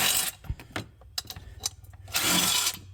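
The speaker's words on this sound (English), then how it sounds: "I already loosened up these guys, so I may as well drop them into the floor." Loosened bolts from a Silverado's power steering and water pump area drop to the floor, giving a few light metallic clinks and rattles amid scraping and handling noise, close and fairly quiet, with no talking.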